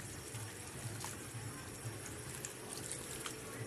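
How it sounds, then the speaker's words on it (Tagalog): Water poured into a pot of duck adobo, a steady faint splashing and trickling run at low level for a few seconds, with no talk over it. "At syempre, dadagdagan natin ng tubig yan."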